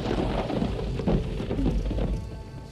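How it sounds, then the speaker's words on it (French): Steady rain with rolling thunder rumbles through a thunderstorm at night in the 1988 slasher film Friday the 13th Part VII, a continuous moderate wash of downpour with low booms swelling underneath and no talk. "T'as peur de l'orage?"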